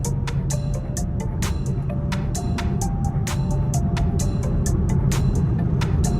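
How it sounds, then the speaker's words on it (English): A tuned Camaro SS engine drives hard through a late-night run and shifts from first into second gear. A steady close rumble runs throughout, with sharp clicks and rising, stepping engine tones. "That was first gear into second gear."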